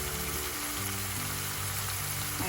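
Spice masala sizzling and frying in a pan for shrimp kofta malai curry, a steady, fairly loud crackling hiss that holds unbroken the whole time.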